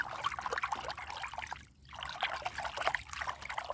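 Fertilizer being stirred into warm, settled water outdoors for feeding hydrangeas, a continuous soft sloshing and trickling with a brief pause midway, close and steady, no talk.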